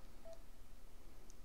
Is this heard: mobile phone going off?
yes